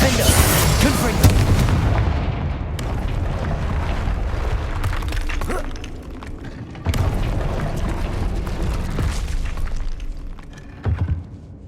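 Confringo fire spells blast in Hogwarts Legacy combat, a series of booming explosions with a loud burst at the start and further hits around the middle, mixed with game effects.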